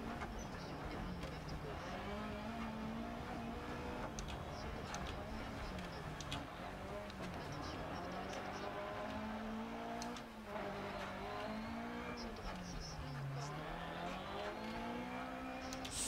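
A racing car engine in a video game drones steadily, its pitch rising and falling through gear changes, loud and continuous with a brief dip midway.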